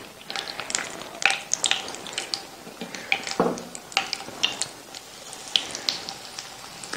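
Crispy chicken fingers frying in oil crackle and pop in irregular sharp bursts, close and moderately loud, with one brief low clatter midway and no talk.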